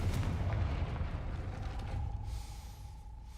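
A Confringo fire spell blasting a gate in the Hogwarts Legacy video game lands as a deep rumbling boom that rolls on and slowly fades over a few seconds, with no speech.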